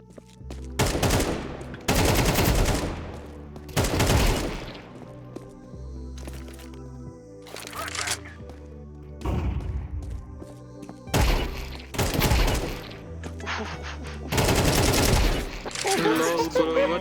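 Counter-Strike 2 gunfire in a clutch round: repeated bursts of loud, close shots come in clusters separated by short lulls, with game background sound throughout.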